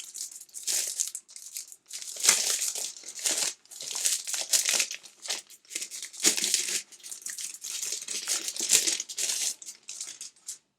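Packaged paper pads from a craft paper collection are unwrapped, giving close, bursty crinkling and crushing of plastic wrap in repeated handfuls with short pauses between, and no talking.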